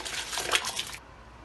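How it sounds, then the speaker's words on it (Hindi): Soaked rice tipped into a pot of boiling water for chicken biryani, a brief close splashing and pouring rush for about a second, then only faint simmering. "पानी उबल गया है, अब इसमें हम चावल डालेंगे।"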